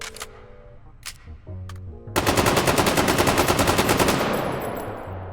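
Scar rifle firing in the VR shooting game H3VR: a few quiet handling clicks, then a loud, sustained full-auto burst of rapid, evenly spaced shots lasting about three seconds before tapering off.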